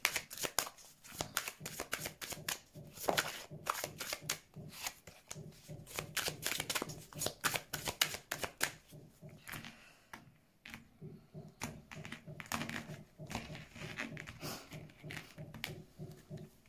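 Tarot cards shuffled by hand in a long run of quick riffling and flicking, crisp bursts of card snaps in an irregular rhythm, close and fairly quiet, with no talk over them.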